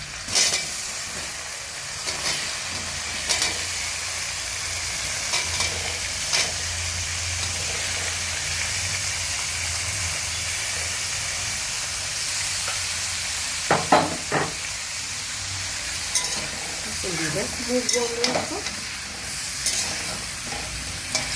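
Paneer pieces fry in melted butter and rice bran oil, a continuous close sizzle and hiss with occasional clatters and scrapes of a spatula, a few louder bursts near the end.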